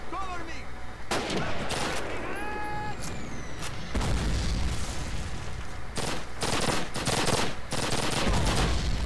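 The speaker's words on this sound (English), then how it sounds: "Who are you shooting at?" Gunfire in Call of Duty: repeated loud shots and bursts, some close and booming, others farther off, over a busy battle background, with brief voices in places.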